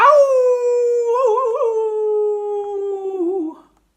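A single long, wavering animal howl, used as a sound effect in a Berenstain Bears storybook reading, rises loud and close, holds with a quavering middle, then fades out after about three and a half seconds.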